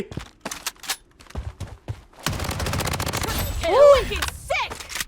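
Rapid bursts of gunfire in a shooting video game, single shots and a dense stretch of continuous automatic fire with metallic ringing, close and loud, with no talk over it.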